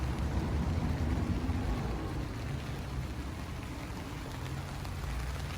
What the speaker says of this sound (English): it just started raining. Not raining real hard. It's raining decently.